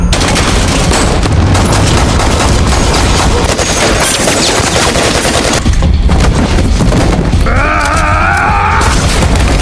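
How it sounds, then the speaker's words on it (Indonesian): Film gunfight scene with loud, dense gunfire, rapid bursts and overlapping shots over a heavy action soundtrack, with a brief shouted voice near the end. "Dan baku tembak pun terjadi."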